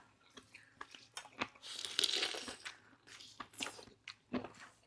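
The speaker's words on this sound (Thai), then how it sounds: "ไหนขอลองชิม แมงกระพุนหัวกระสุนจ้ะ" Jellyfish from a Thai papaya salad is chewed close to the microphone, a run of crisp, wet crunching bites and squishy mastication in an uneven rhythm, loud and alone without talk.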